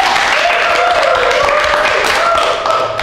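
Loud studio audience applause from a large live crowd, continuous dense clapping for about three seconds with some cheering tones, easing slightly at the end.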